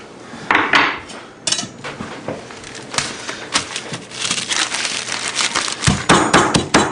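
Repeated hard pounding and clattering knocks as a hammer crushes salt, loud and close, with irregular strikes and scraping between them.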